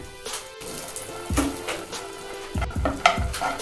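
Cashews roasting in a pan alongside peanuts, a soft sizzle broken by scraping stirs and light clinks of a spoon against the pan, moderately close with no talking.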